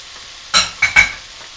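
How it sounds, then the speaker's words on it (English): Capers and their brine added to a hot pan while cooking chicken cacciatore, giving a few short bursts of sizzling and stirring over a quiet background, with no voices. "Add your capers and some juice. I add the juice of the capers in there."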